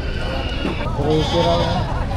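Goats bleat at a livestock market in Padre Garcia, Batangas, short calls mixed into nearby talk and crowd bustle.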